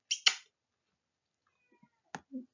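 A house cat gives two short meows at the start, then a fainter meow follows after a pause, with a small low chirp at the end, all close and clear in a quiet room.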